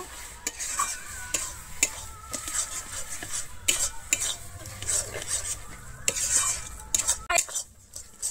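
Pointed gourd bharta being mixed with slit green chillies and chopped coriander: a spoon scrapes and clinks against the bowl in quick, repeated strokes, close and steady, with no voices.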